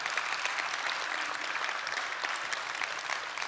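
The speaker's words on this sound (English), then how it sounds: "please give one more round of applause" Church congregation gives a round of applause, a soft, even patter of many hands clapping steadily for a few seconds, somewhat distant and quiet, with no voices on top.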